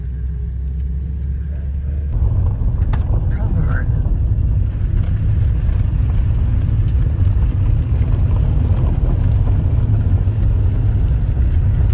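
Car driving along a rural road, a steady low engine and tyre rumble heard from inside, constant and fairly loud throughout, with a person speaking over it.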